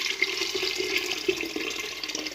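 Hot water is poured into a cooking pan on the stove, a faint, steady splashing and hissing stream with small gurgles and no talking.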